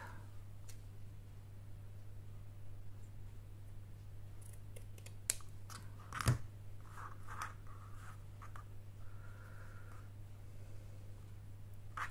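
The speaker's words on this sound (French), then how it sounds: "on va découper l'excédent de chaque côté" Scissors trim excess material from both sides of a handmade jewelry charm embellishment, giving a few faint, scattered snips and clicks over a steady low electrical hum in a quiet room.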